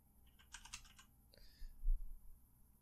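Rapid bursts of typing on a computer keyboard, a quick cluster of close, crisp keystrokes followed by a couple of isolated key taps, all fairly quiet with no talking.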